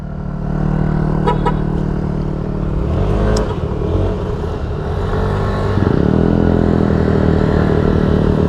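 Eight Yamaha NMAX motor scooters ride together, engines humming and revving close by, with a rise in pitch as one accelerates partway through.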